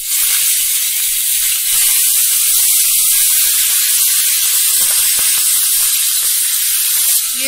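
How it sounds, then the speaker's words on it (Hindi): Green chilies and curry leaves sizzling in hot oil in a pan while making rava upma, a steady loud hiss and crackle filling the whole stretch with no talk. "तो इसमें चटकने की आवाज आने लगी है, तो इसमें डाल देते हैं हरी मिर्च और"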